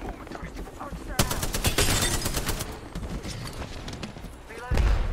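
Video game gunfire in sharp, rapid automatic bursts, loud and close, with scattered thuds and shots after the main volley, and voices talking over the action.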